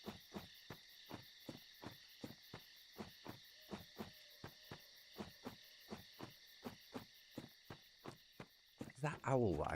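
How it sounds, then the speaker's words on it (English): An owl hooting in the game Dark Souls Remastered: a steady, evenly spaced series of soft low hoots over a faint continuous tone, ending in a brief burst of other game noise. "Is that owl that I can hear in Dark Souls?"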